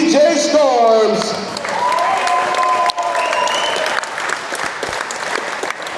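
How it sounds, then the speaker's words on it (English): A crowd at a live wrestling event applauds DJ Storms, with dense, continuous clapping and some cheering heard under an announcer's voice over the PA. "Let's give it up one more time for Elmwood Park's own DJ Storms"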